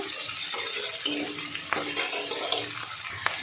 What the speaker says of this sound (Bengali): ক্যাপসিকামটা দিয়ে এবার আমি একটু ভেজে নেব